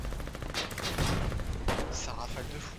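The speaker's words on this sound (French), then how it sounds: "Ça rafale de fou." Rapid bursts of automatic gunfire in the war game Foxhole, several sharp volleys from nearby weapons stacking over one another, with a voice speaking French over the shooting.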